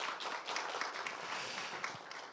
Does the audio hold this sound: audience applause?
yes